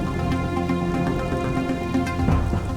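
Heavy rain pours down steadily in an animated Hindi comedy cartoon, a dense continuous patter close up with a few louder splashes, no voices over it.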